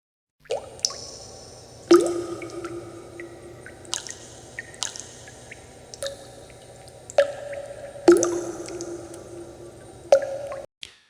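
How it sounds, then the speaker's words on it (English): Slow, irregular drips of water fall one by one onto a hard surface, each a soft wet plink, in an otherwise quiet room. "the soft drip, drip, drip of water hitting the floor"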